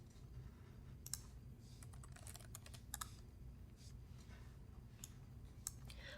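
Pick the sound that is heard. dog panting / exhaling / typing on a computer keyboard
typing on a computer keyboard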